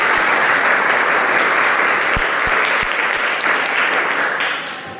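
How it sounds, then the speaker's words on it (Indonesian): Loud, enthusiastic applause from a class of schoolchildren, many hands clapping together, sustained for several seconds before tapering slightly at the end. "Tepuk tangan untuk kita."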